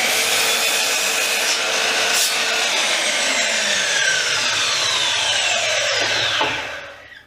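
A power saw cuts through decking boards for window box bases, a loud continuous whining rasp with a rising pitch sweep through the cut that drops away at the end as the blade finishes.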